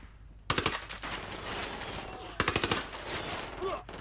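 Gunfire in the Ghost Recon Wildlands video game: two sharp bursts of rapid automatic fire, each a quick string of cracks, with a lower ambient wash between them and no speech.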